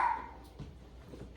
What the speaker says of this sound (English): Bella's still barking.